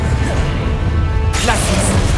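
A fire spell cast in the video game Hogwarts Legacy, a sudden broadband whoosh and crackling burst breaking in partway through over a steady game soundscape, loud and close.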